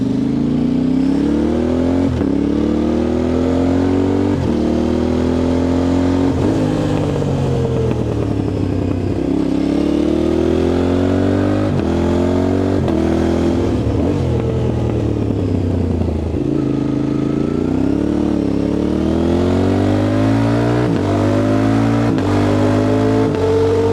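Motorcycle ride captured by a DJI Mic Mini tucked low inside a reSpec Super shirt between back protector and outer fabric: a steady loud engine drone with repeated rising revs and gear shifts, muffled wind rumble throughout, no voices.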